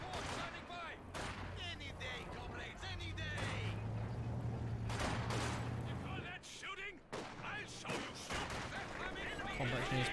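Battle sounds in the strategy video game Company of Heroes during an online match, with a dense, continuous roar of gunfire and explosive artillery bursts layered over a rumbling backdrop, while a commentator talks over the action.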